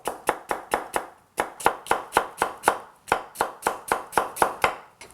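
A kitchen knife julienning pear on a cutting board for kimchi, sharp rhythmic chops in quick even bursts with one short pause, close and crisp with no talking.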